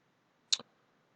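A single crisp computer mouse click, short and close in an otherwise quiet room, with a faint second tick right after it.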